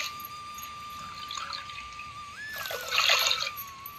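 Water poured into a pan of sugar to start a syrup for gulab jamun, a steady trickle that swells into a louder splashing pour near the end, close by, with no talk.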